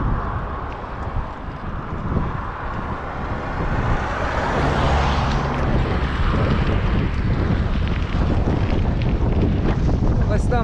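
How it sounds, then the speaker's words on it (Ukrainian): Strong wind roars and buffets the microphone in a loud, steady rush with a low rumble underneath, growing fuller partway through, during a bicycle trip at the Shatsk lakes. "вітер несе просто на мене"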